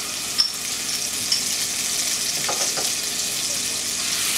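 Garlic, ginger and scallions sizzle steadily in a pan with reduced beef juices, a continuous close frying hiss broken by a couple of sharp pops and some faint stirring scrapes.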